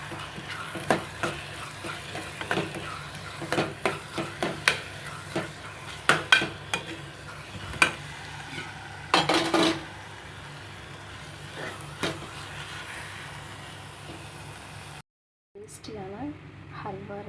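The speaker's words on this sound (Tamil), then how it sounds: "நெய் விட்டு நல்லா சுருண்டு வர மாதிரி கலக்கிக்கணும்." Carrot halwa cooked in ghee is stirred in a pan, a string of scraping spoon strokes and metallic clinks over a low sizzle, fairly close, before a brief pause near the end.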